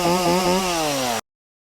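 A chainsaw with a very dull chain roars steadily as it cuts through a tree, its pitch sagging slightly as it bogs into wood, then cuts off abruptly into silence.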